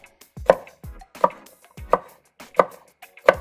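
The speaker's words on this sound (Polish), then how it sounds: "Paprykę kroję w prążki." A knife taps a cutting board in five evenly spaced chops, close and crisp, slicing sweet bell pepper into strips.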